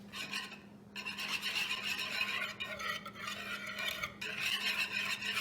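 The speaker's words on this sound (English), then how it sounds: "you're going to need your whisk for this part." A whisk scrapes and stirs briskly in a bowl of chocolate pie batter ingredients, a continuous rapid rasping close by with a few short pauses, steady and fairly quiet with no talking.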